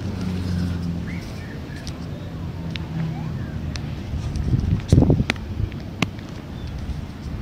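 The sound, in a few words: wind blowing outdoors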